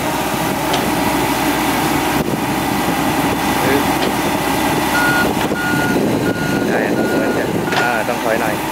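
A six-wheel truck backs up near a Komatsu excavator, its reversing beeper repeating steadily over a constant engine drone, loud and close throughout.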